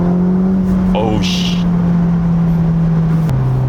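A 620-horsepower Ferrari Roma Spider kicks down and accelerates. A loud, sustained engine drone rises and then steps down as it shifts gear, heard from inside the cabin with a voice speaking briefly over it.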